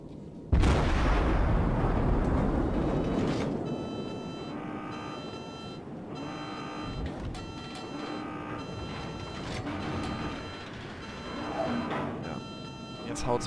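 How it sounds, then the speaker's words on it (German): Naval guns on the cruiser USS Cleveland fire in World of Warships, one sharp loud blast followed by a rolling rumble, then repeated game beeps under a talking voice. "Ich gebe einfach mal einen Schuss ab"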